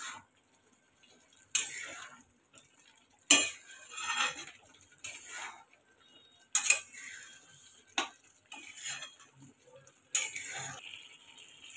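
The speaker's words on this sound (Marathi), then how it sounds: "आपल्याला वेलचीची पूड टाकायची आहे आणि ते सुद्धा आपण व्यवस्थित असं ढवळून घेऊया" A spoon stirring cardamom powder into bottle gourd halwa in a pan, with a metallic scrape and clink repeating every second or two against a quiet background.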